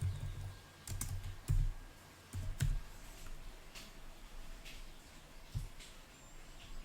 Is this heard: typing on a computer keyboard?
yes